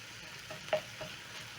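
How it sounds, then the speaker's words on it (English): Ground meat fries softly in a pan with paprika, garlic powder, coriander, black pepper, cumin and a seasoning cube as a utensil stirs, giving a faint sizzle with a couple of brief scraping knocks. "Toss the spices together with the meat for around 30 seconds."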